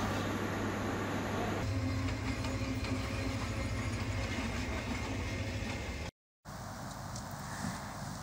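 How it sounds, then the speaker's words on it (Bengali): A rescue train works on a railway track at the site of a derailment, giving a steady rumbling drone with faint clattering, moderately loud and continuous, briefly cut before resuming. "উদ্ধারকারী ট্রেন এসে কাজ শুরু করে দেয়।"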